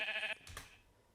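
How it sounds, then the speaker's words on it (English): A blocky Minecraft sheep bleats once in a movie trailer, a short clear bleat followed by a brief soft rustle and quiet tail. "It's a sheep."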